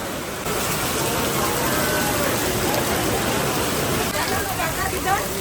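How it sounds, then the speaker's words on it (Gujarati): Rain falls steadily outdoors at a Jalaram temple pilgrimage site in Virpur, a dense, continuous wash of broadband patter that starts abruptly and stays loud and even throughout, with a hint of voices faintly beneath it. "વરસાદ ચાલુ છે."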